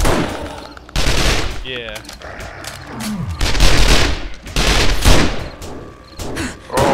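Rapid gunfire in the video game 7 Days to Die during a blood moon horde fight, bursts of loud close shots with booming hits, under excited talk from players.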